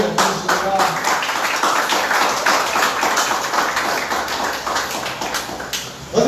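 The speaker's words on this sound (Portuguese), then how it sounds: "E você pode aplaudir ao nome dele aqui nesse lugar" Church congregation applauding during a worship service, a steady dense patter of many hands clapping throughout, fairly loud and continuous, with no talk over it.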